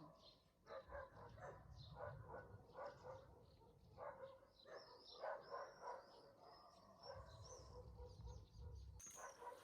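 Faint dogs bark repeatedly in the distance, a loose series of woofs over quiet outdoor ambience with occasional bird chirps.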